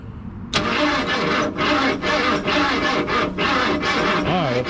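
A 1988 Ford Bronco with a Ford 302 engine cranks over steadily and loudly, its starter churning in a fast, rhythmic pulse for several seconds without catching.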